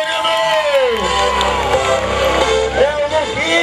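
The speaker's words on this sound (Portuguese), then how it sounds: "os aplausos para Lucas Moreno!" Audience at a motorcycle stunt show cheering and clapping for a six-year-old rider, a loud continuous crowd roar with whoops, while an amplified announcer's voice shouts over it throughout.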